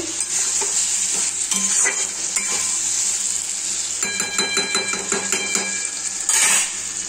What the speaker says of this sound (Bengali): এই হচ্ছে আলু পটলের তরকারি, মশলা কষাচ্ছি।